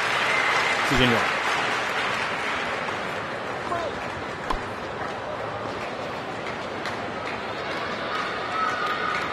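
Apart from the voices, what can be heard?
crowd applauding in tennis video game Tennis On-Court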